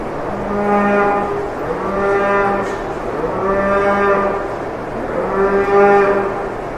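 Dairy cows on a large farm low repeatedly at milking time, four long drawn-out moos in slow succession, loud and close with no one talking.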